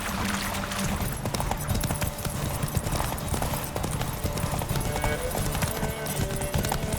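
Roach, the horse in The Witcher 3, gallops in a quick, continuous clip-clop of hooves that stays loud and near throughout, with game sound layered around it.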